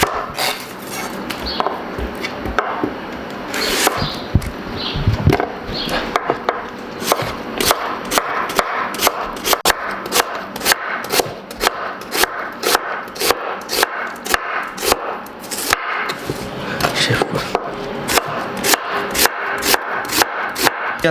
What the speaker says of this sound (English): let's start slicing onions first.